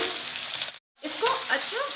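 Potato cubes sizzle loudly in hot oil, a dense close crackle broken by a short silent gap before the frying resumes with bubbling pops.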